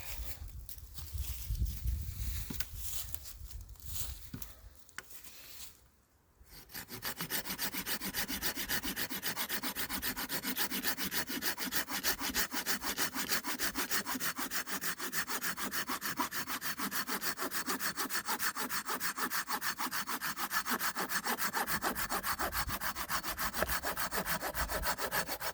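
A Bahco folding saw rasps back and forth through a wood trunk in a fast, steady rhythm, close and continuous for most of the clip after a few brief initial strokes.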